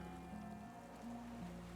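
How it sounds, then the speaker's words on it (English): Gentle water lapping against a small wooden skiff moored by a dock in the Disco Elysium video game, a faint, steady wash with soft tonal hum beneath, no voices. "The skiff is swaying on the waves by the dock."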